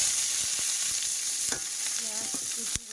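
Chopped onion, garlic, green chilli and ginger frying in oil in a wok on an induction cooker, a steady close sizzle with a few soft stirring clicks and scrapes.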